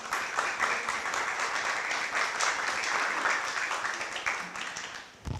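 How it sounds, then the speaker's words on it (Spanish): An audience at a press conference for journalists in Lambayeque, Peru, gives a sustained round of clapping, dense and steady at moderate volume, tapering slightly at the very end. "para quien pido un fuerte aplauso,"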